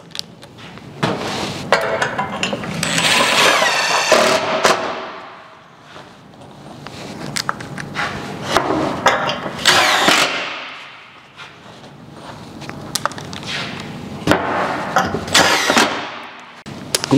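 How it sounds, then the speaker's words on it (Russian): A power screwdriver drives self-tapping screws into modular metal roof tiles in several loud, whirring bursts that rise and fade, separated by pauses and clattering handling noises close by. "И заворачиваю саморез."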